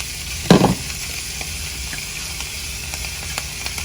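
Ground meat with onions and peppers for chili frying and being stirred, a loud close scrape and splashy sizzle near the start followed by a steady quieter crackle.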